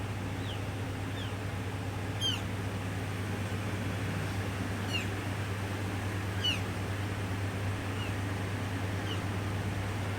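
Newborn kittens give faint, high, repeated mews, scattered every second or two, over a steady low hum, with their young mother cat nearby.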